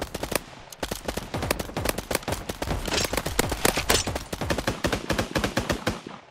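Video game gunfire in rapid bursts and single shots, dense sharp cracks tumbling over one another almost without pause, loud and close.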